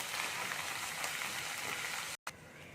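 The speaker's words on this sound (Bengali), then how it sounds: "এগুলোকে আমি একটু ভেজে নেবো" Green chilies, ginger and garlic frying in a pan, a steady dense sizzle with no talk, broken by one brief dropout near the end.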